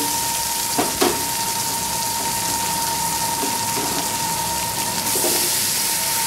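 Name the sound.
vegetables frying in pan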